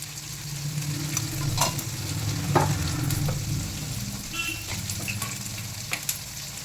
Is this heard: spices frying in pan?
yes